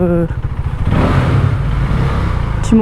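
A KTM Duke motorcycle with a 473 cc single-cylinder engine revs hard in a tunnel, its loud throbbing drone swelling and echoing, while a rider talks briefly at the start and end.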